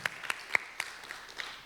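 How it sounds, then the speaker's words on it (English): A few scattered, quiet hand claps from a small audience at a food service panel, greeting the panelist Nick: about half a dozen separate claps in a thin, uneven patter that trails off. "So let's give Nick a round of applause for being here."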